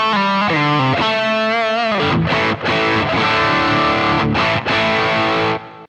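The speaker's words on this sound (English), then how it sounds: "And last of all, I'm going to add in a tube screamer." Electric guitar on a Boss GT-1000 rig through a tube screamer overdrive pedal, a bending single-note lead line sliding into thick, mildly driven strummed chords, loud and close before cutting off.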